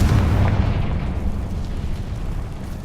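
A Confringo fire spell goes off in Hogwarts Legacy, a loud low boom that rumbles at the start and then fades into a dull, sustained roar, with no talking.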